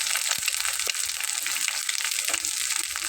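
An unbeaten egg frying in hot oil for Bengali potato snacks, a dense, steady crackling sizzle heard close up, with a few soft scraping knocks and no voices.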